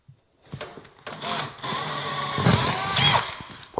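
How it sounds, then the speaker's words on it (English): A power drill fitted with a 1/2-inch bit bores a hole in a wall while a microwave is mounted over a stove. The motor whines steadily for about two and a half seconds, with short starts and stops around it. "I'm also going to switch to a larger 1/2-inch drill bit."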